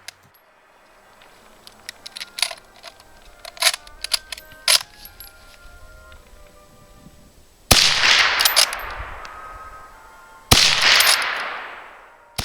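Mk III Ross straight-pull rifle fired in a rapid-fire string: several sharp close shots with mechanical clatter of the bolt and cases, then two very loud reports with long ringing decays near the end.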